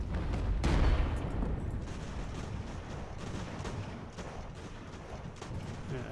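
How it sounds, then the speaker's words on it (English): Field artillery fires in the naval strategy game Ultimate Admiral: Age of Sail, a heavy boom near the start followed by scattered, rumbling shots and crackling gunfire at a moderate distance. "So if I use the field artillery to attack the smugglers"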